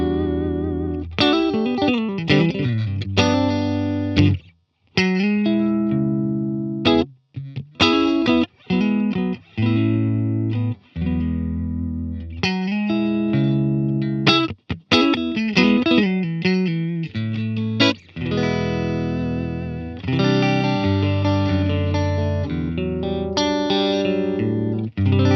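Electric guitar played through a Line 6 Helix Stadium multi-effects unit with a creamy distorted tone and chorus, sustained chords and melodic phrases with brief pauses, loud and alone without talk.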